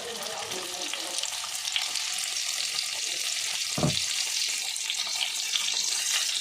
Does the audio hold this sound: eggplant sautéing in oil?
yes